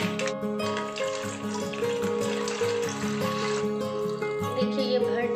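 Water pours into a spray bottle in a kitchen, a steady close splashing fill running throughout beneath tonal background music.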